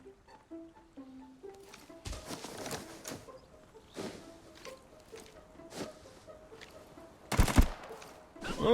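Gunfire in the shooter video game Arena Breakout comes as sharp bursts of shots, scattered and fairly close, with a heavier burst near the end over faint game sounds and tones.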